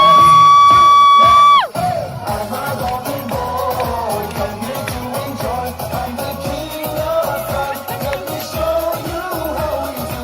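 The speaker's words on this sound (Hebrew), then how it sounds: "כפיים לשביעיסטים!" A crowd cheers and whoops for seventh graders after a loud sustained tone cuts off, with a dense mix of shouts and yells that keeps going to the end.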